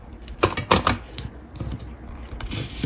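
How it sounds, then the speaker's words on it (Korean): Scissors snip the end of crochet yarn on a square tote bag. A few sharp, close clicks and cuts come in a quick irregular cluster, then there are quieter handling sounds. "끝부분을 가위로 잘라서"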